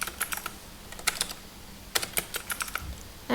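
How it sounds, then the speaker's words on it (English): Keys clatter on a computer keyboard in quick, irregular bursts of clicks, close and fairly quiet, with short pauses between groups of keystrokes and no talking. "I'm just going to type down rotate"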